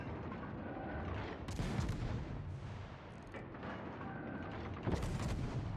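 Warship guns fire in World of Warships, producing a few quiet, heavy booms amid low game rumble, with no voices.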